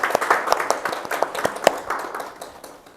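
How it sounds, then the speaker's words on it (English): A room at a joint Toastmasters club meeting breaks into a round of applause. Many hands clap at once with some sharper close claps, and the sound thins out toward the end. "let us all give ourselves a huge round of applause"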